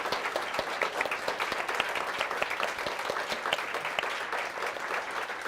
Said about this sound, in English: let's just give another big round of applause for our panel